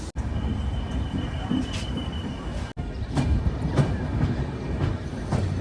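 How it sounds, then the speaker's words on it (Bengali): Kanchankanya Express train pulling out of Siliguri station, with steady rumbling wheels on rails and rhythmic clacks over joints, heard close from on board, continuous and fairly loud. "আমাদের ট্রেন আবার ছাড়লো শিলিগুড়ি স্টেশন থেকে"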